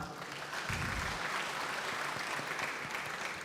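Applause from the audience at a university graduation ceremony for S1, S2 and S3 graduates and their families, a steady wash of clapping from a large crowd in a hall, fairly faint and sustained throughout.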